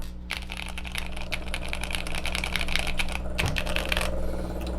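Fast, continuous clacking of keys on a Cherry Xtrfy Pixiu 75 keyboard with a non-aluminum case, heard up close over a low steady background hum, with one brief pause partway through.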